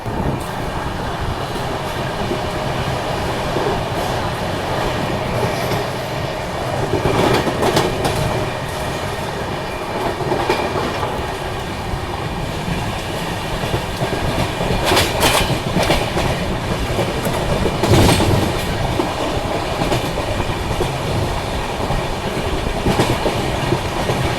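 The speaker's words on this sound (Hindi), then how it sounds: "हमारी ट्रेन अभी मानिकपुर पहुंचने वाली है। वहाँ पे ट्रेन का हॉल्ट नहीं है, ट्रेन स्किप करने वाली है।" Ahmedabad-Gorakhpur Express train running at speed over the rails, passing a station without stopping near Manikpur, with steady loud rumble and periodic clickety-clack of wheels over rail joints throughout, no voices.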